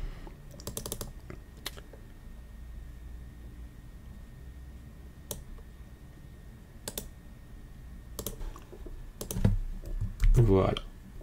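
Bursts of keystrokes on a computer keyboard while code is typed for a React Native app that takes and uploads a photo, clustered clicks separated by pauses, with a louder spell of typing near the end.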